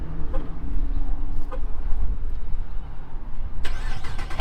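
Dodge Charger engine running with a low, rough rumble and a few throttle blips, then a sharper, louder burst near the end, heard on its own without talk.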